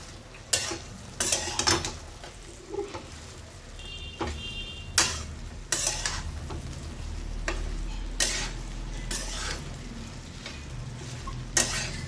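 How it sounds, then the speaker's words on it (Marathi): Okra sizzles as it is stir-fried in a pan over high heat. A spatula scrapes and clicks against the metal in irregular strokes, above a soft, constant frying hiss. "इथे गॅस मोठा करून आणि भेंडी परतवायची आहे।"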